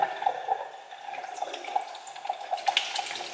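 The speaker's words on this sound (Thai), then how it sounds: "น้ำไหล" Water runs steadily from a tap into a sink while washing dishes, with small splashes and drips ringing through the continuous flow.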